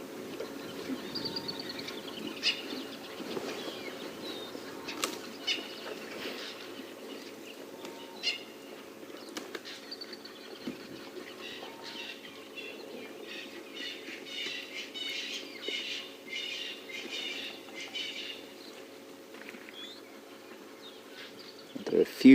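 Assorted wild birds call and chirp during a morning safari drive in Africa, a mix of repeated chirps and trills at moderate distance over a steady low engine-like hum, with no talking.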